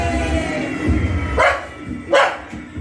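Two loud dog barks, about a second apart, over a low background rumble; no talking.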